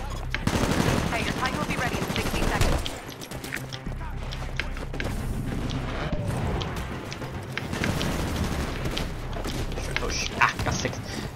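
Gunfire in the video game Titanfall from a lock-on pistol, loud and dense, mixing rapid shots with other game weapon fire and effects through the whole stretch, with a brief dip near the start and talk mixed in.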